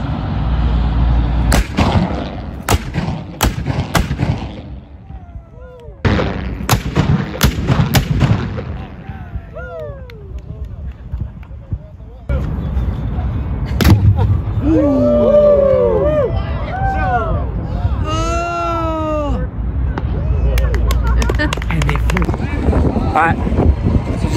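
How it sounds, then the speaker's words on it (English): Cannon fire at a Scottish-Irish Highland festival in Estes Park: several loud, sharp booms in quick succession, then more blasts among crowd chatter, wind noise and whistling sounds, with people talking nearby. "Just got done shooting the cannon off over there."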